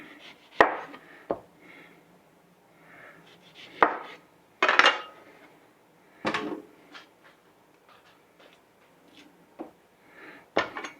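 A knife cutting through a lemon on a board, a handful of sharp separate chops and knocks spaced a second or two apart, with soft kitchen clatter between.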